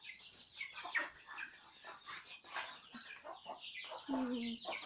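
Soft clucking and peeping from a group of chicks in a coop nearby, irregular and busy, with a few louder calls toward the end.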